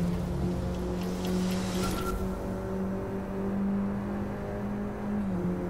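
Inside a Mini Cooper JCW GP with a 1.6 16V THP engine and six-speed manual, the engine drones steadily in fifth gear near 100 mph, a constant cabin hum with a slight rise and fall.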